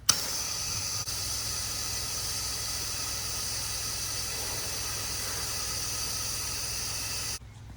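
Pressure washer nozzle spraying water onto the wall of a house, a continuous loud hiss at close range that holds steady for about seven seconds and then cuts off abruptly.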